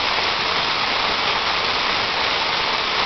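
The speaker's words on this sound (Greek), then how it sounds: "Το βουητό το ασταμάτητο ακούγεται από πολύ μακριά" A loud, unbroken rushing roar of the Petousi waterfall at Polydroso, Souli, dense and steady throughout, with no voices.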